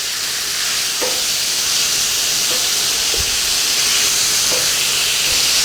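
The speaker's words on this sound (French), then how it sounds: "Et je vais commencer à faire cuire le veau." Veal sizzling in a pan with olive oil, a steady close hiss of frying that holds evenly throughout, broken by a few soft taps and scrapes as the meat is moved.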